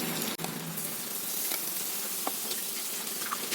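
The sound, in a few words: marinated fish frying in a pan without oil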